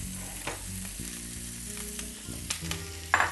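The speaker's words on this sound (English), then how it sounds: "I'm going to now take my butternut squash and kale and just dump it right in" Butternut squash and kale hit a hot, lightly oiled pan with a close, crackling sizzle, broken by clattering stirs and scrapes and a sharp clink near the end.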